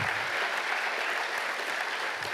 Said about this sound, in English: give them a huge round of applause, please